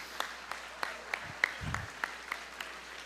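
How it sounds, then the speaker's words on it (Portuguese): Sparse, faint applause from a church congregation during a sermon, with scattered claps in a loose, steady rhythm and a brief low thump midway. "Vamos dar um aplauso bem forte para Jesus."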